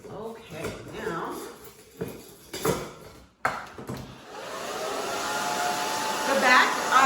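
A hair dryer blows steadily while drying short, thin hair at the back of the head, a close whooshing hum that rises and holds after some handling sounds and a voice.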